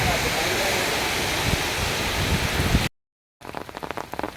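Heavy monsoon rain pours in a dense, steady hiss for about three seconds, then cuts out briefly before returning as a fainter patter with scattered drops.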